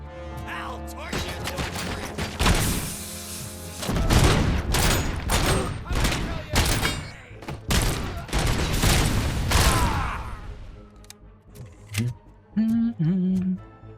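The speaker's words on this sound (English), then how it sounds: "I didn't quite catch it over the sound of, you know, explosions and such" Video game combat in RoboCop erupts in bursts of gunfire and explosions, loud dense volleys of shots and blasts that come and go, with a short tonal sound near the end.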